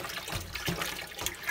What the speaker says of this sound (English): We'll fill the sink up here.